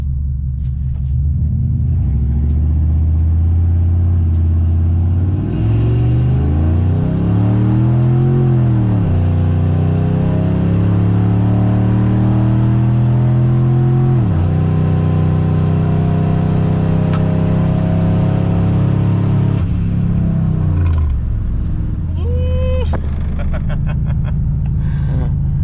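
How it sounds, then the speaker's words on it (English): A single-turbo Ford F150 pickup doing a brake-boosted four-wheel-drive launch to 60 mph, its engine loud and close, climbing in repeated rising sweeps through gear changes before easing off near the end. "Brake boosted, 4-wheel drive launch."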